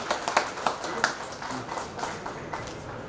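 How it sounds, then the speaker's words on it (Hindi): Audience clapping at an oath-taking ceremony of a livestock extension officers' association, a scattered patter of hands with a few sharper individual claps standing out, moderately loud in a hall. "तालियां पड़नी चाहिए। तालियों के बगैर नाम नहीं चलता।"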